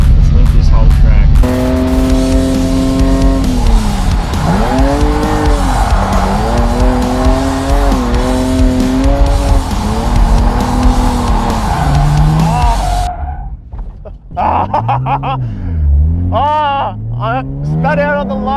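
A drifting car on a track, engine revving at high pitch with sustained tire squeal and skidding through corners, loud and close for most of the run before cutting out, followed by brief engine blips and a voice.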